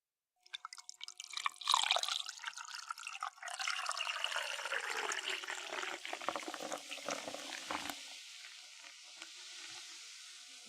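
A drink poured from a can into a small glass, starting with a sharp splash and settling into a steady, fizzing stream that slowly thins out over about ten seconds. No voices.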